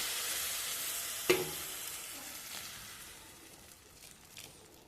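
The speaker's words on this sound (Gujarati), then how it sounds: "તો આવી રીતે આપણે ગરમ પાણી નાખી દીધું" Hot water poured little by little onto sev in a pan gives a soft hiss and sizzle that starts with a sharp burst and gradually fades, with a few faint crackles later.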